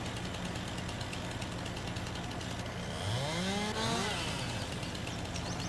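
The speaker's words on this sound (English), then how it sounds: "Bring up our chainsaw." Chainsaw cutting through a fence in a farming video game: a steady buzzing engine drone throughout, rising in pitch and loudness midway as it bites into the wood.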